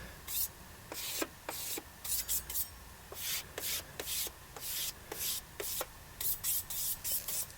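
Someone scrapes dried filler compound on a plasterboard wall patch with a blade, making a series of short, close, rasping strokes in an uneven rhythm.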